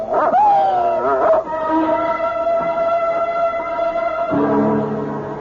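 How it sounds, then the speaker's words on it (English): A dog in a radio drama howls and whines in long drawn-out wavering tones, close and loud, with a lower yelping cry near the end and no talking over it. "It's only a dog, for Pete's sake."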